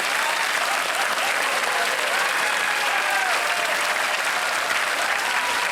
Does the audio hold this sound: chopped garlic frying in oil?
no